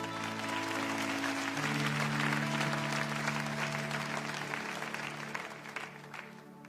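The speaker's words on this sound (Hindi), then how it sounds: "उनका स्वागत करेंगे हम तालियों के साथ" A church congregation applauds to welcome first-time visitors, a thick, sustained round of clapping lasting several seconds and easing toward the end, with faint musical tones underneath.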